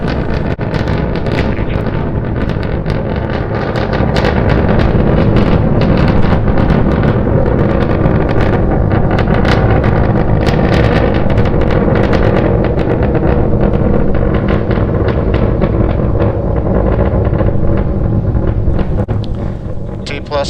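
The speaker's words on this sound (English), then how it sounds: "We're continuing to climb on 2 engines." SpaceX Starship SN9 climbs on two engines during a test flight toward 10 kilometres altitude, a continuous crackling rocket roar with wind buffeting, while a voice talks over it.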